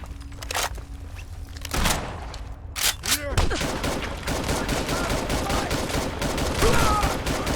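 Gunfire in Fallout 4 on survival difficulty with mods, near an apartment tower. A few scattered shots and thuds give way to a dense, continuous burst of rapid fire that carries on loudly to the end.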